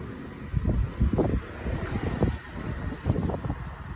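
Gusty wind buffets the microphone with loud, low rumbling bursts rising and falling continuously, no other sounds standing out.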